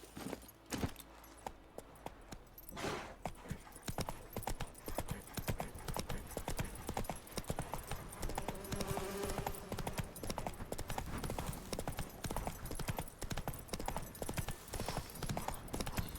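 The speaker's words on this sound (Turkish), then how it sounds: "Tek beygir." Horse hooves clip-clop steadily and fairly close in The Witcher 3, a continuous trotting rhythm over a game soundscape, with a voice occasionally speaking over it.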